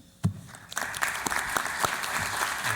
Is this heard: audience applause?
yes